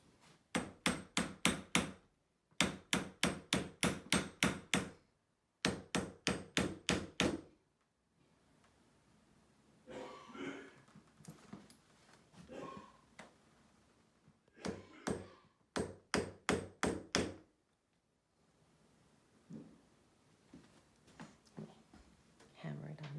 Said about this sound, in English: Hammer it on this side a little so you can see what I'm doing.